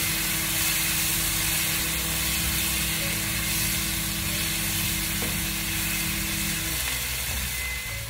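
Chopped spring onions sizzling and frying in a hot pan of Indo-Chinese chilli soya, a loud, steady hiss with soft scraping of stirring running throughout, no talk.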